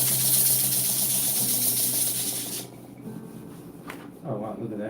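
A sanding machine running on wood makes a loud, steady, close hiss that cuts off after a few seconds, followed by a person talking.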